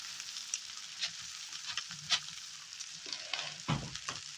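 Boiled potato frying in a pan makes a soft, low sizzle broken by scattered scrapes and taps from stirring, all quiet and close.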